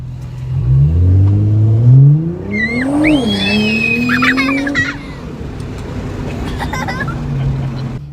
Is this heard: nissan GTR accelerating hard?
yes